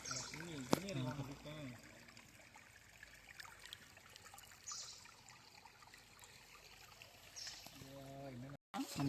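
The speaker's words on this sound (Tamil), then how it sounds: "ஓடை மாதிரி அப்படியே தண்ணி போயிட்டே இருக்குது" A soft, steady trickle of water flowing over rocks in a stream runs in the background, with brief bursts of people talking at the start and end.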